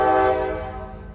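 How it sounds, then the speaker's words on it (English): A passing train sounds a loud horn whose tone fades quickly, leaving a low rolling rumble behind it, heard outdoors near a parked motorcycle. "We got a train"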